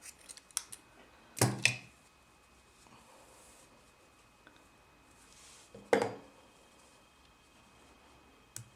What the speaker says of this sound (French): une maille en l'air et on coupe le fil